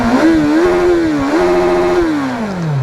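A stock Kawasaki Z1000SX or BMW S1000RR motorcycle engine revving close by, its pitch rising and falling through a couple of throttle blips before easing down, loud and steady without talk.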